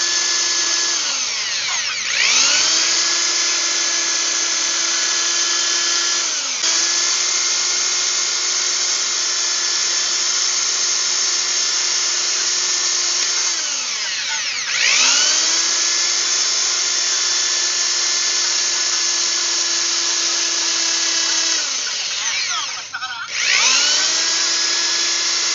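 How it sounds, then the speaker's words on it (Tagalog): A handheld rotary engraving tool whines steadily while working a PVC holster belt bracket, holding a high, drill-like tone with a few brief dips where the bit eases off, and no talking. "Ito naman po ang susunod nating gagamitan ng engraving tools, yung ating bracket na para sa sinturon."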